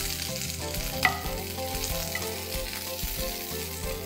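Chopped garlic fries in hot oil with curry leaves for restaurant-style gobi 65, a steady close sizzle with one sharp pop near the start and faint tonal music underneath.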